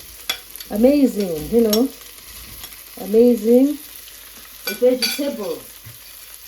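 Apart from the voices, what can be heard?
frying fresh green okra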